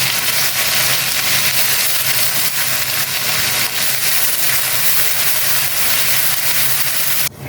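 Onion and garlic paste sizzles steadily in hot mustard oil while chicken curry cooks, a dense continuous hiss holding for several seconds before cutting off abruptly near the end, with no voices.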